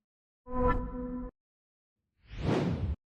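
Two separate whoosh transition sound effects from the CapCut editing app, the first a tonal swoosh and the second a noisier rising swish, each about a second long and clean against silence.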